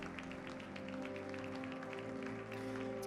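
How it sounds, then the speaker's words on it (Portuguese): Congregation applauding during a live church service, a steady wash of dense clapping over sustained organ or keyboard chords, moderately loud and continuous throughout. "Aplauda ao Senhor, glórias a Ele"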